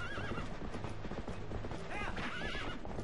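Horse neighs and galloping hoofbeats in Zelda: Twilight Princess, quiet game audio with a steady clip-clop rhythm and whinnies layered over it.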